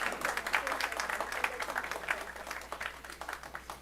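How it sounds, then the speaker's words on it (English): Applause from the audience at a council meeting for an art unveiling, a steady crowd clapping sustained through the clip at moderate distance, slowly tapering toward the end. "Let's give a round of applause to the beautiful art unveiling."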